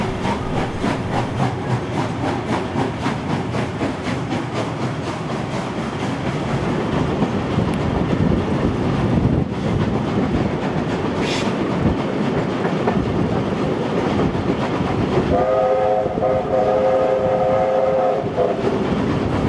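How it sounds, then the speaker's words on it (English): A 36-class steam locomotive on a New South Wales line near Como runs past steadily and loud, with a bright multi-tone horn blast sounding near the end over the rolling wheel noise. "the 36-class locomotive managed to gain up time at Como"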